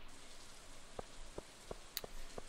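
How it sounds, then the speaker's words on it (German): Rain in Stardew Valley patters steadily as a soft, even hiss, with scattered distinct drop ticks landing alone at a quiet level. "Regen. So viel Regen."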